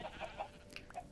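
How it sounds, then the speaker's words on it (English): Chickens cluck softly in an animal pen in the video game Minecraft, a few short clucks in quick succession, faint and close. "We have built this animal pen down here with lots of chickens, some sheep."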